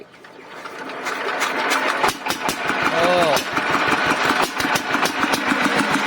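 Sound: Siam NC131 engine being started after ten years parked

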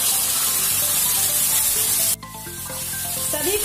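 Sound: ground tomato paste added to frying masala, sizzling

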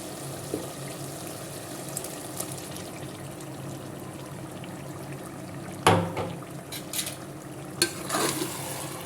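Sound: masala being stirred and sautéed in oil

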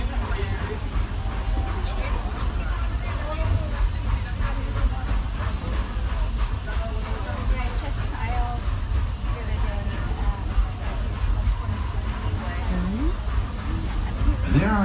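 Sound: steam train running

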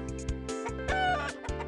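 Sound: rooster clucking in the video game Toilet in Wonderland

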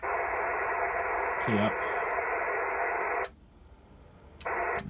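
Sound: HF radio signals received on a multiband doublet antenna

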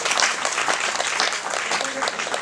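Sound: audience applause at a congress

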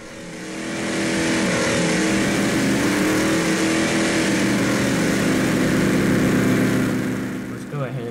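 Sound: Land Crusher BC truck engine driving in Spintires video game

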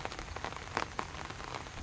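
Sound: spring rain falling

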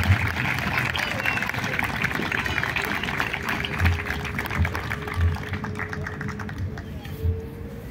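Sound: audience applause at naval ceremony

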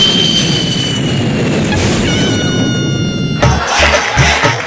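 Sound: airplane flying overhead, comedy sound effect

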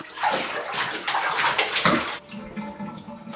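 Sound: water rinsing a springer spaniel in a bathtub

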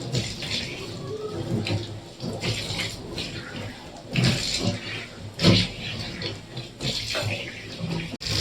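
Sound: kitchen sink being rinsed with tap water

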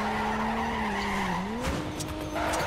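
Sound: car tires skidding while drifting in video game Torque Drift

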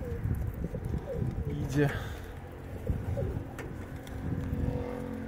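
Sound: pigeons, male blawinder pigeon

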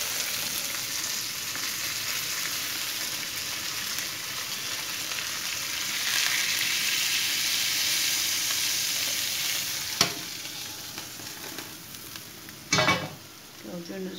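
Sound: anchovies frying in a little oil

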